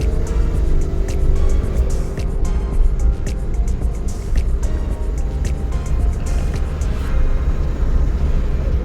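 A Suzuki DA64W turbo wagon's engine revs while driving down a straight road, a steady close drone with rumbling low end and continuous road noise, no talk.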